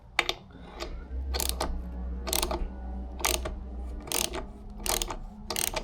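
Wrench turning a thread-cutting tap into an engine part where threads were stripped, giving repeated ratcheting clicks in bursts about every half second over a low steady hum, close and moderately loud.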